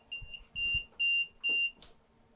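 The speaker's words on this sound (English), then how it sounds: "then it starts beeping and turning the power supply off" A power supply's alarm beeps high in an uneven series of electronic tones as it shuts itself off, followed by a brief sharp chirp, over faint low rumbling.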